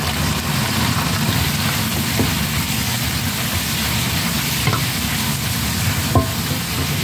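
Squid frying for adobo in a pan, a steady, dense sizzle and crackle that stays loud and even throughout, with a few faint clicks of utensils.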